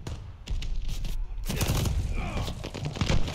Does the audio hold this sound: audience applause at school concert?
no